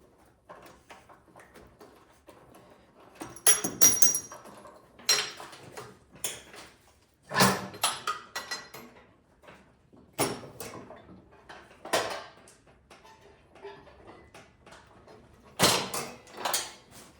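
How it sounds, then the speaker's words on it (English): A bracket is unbolted from a Powersmart snowblower, heard as scattered metallic clicks, scrapes and clanks of tools and parts handled at close range, irregular and moderately faint, with no talking. "easy way to do that is just to take this bracket off so we can loosen up the cable"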